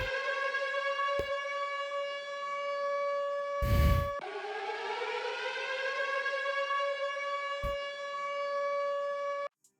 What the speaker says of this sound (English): this is the Siren, very popular, very popular, and this is what it sounds like.